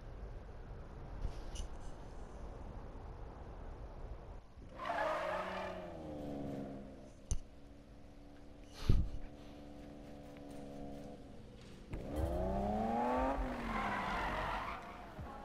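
Racing car in a video game: engine notes rise and fall in two loud revving bursts, with a brief sharp tire skid and a couple of clicks between, over a steady low background hum.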